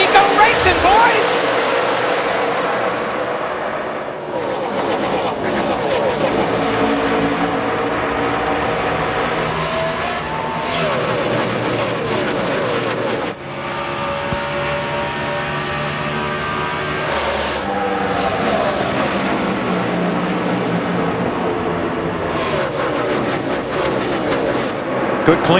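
NASCAR race cars roaring away at the start of the 2005 NEXTEL All Star Race, a dense continuous engine roar with rising and shifting pitch as the field accelerates, with crowd noise and commentary voices blended in.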